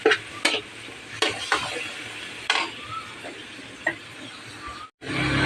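Masala with green chilli, a pinch of chilli powder and a splash of water sizzles in a pan while a spoon stirs and scrapes it, giving a few sharp clinks over a steady, quiet fry.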